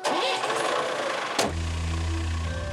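A goods-laden truck engine cranking and catching, a brief starter whir followed by a sudden low diesel idle that settles into a steady close rumble, with no voices.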